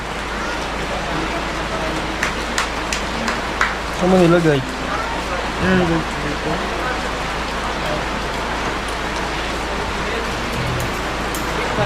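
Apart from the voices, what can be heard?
rain falling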